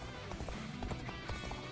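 Rapid hoofbeats of a horse at a gallop in the video game Dynasty Warriors Origins, rhythmic thuds over a steady background hum, brief and moderately loud.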